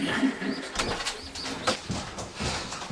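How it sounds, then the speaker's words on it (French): Domestic pigeons coo in a loft where squabs about a week old are kept, giving soft, repeated throaty coos and murmurs at close range, with no talk. "voilà les premiers pigeons qui sont nés, alors qui ont 7 jours là, 7-8 jours"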